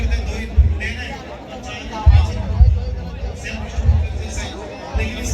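A crowd chatters and murmurs in a room during a bass sound test, with irregular low thumps rising out of the steady babble.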